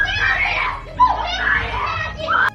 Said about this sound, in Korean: 중국 여자들이 어떤 이유로 소리를 지르고 있습니다.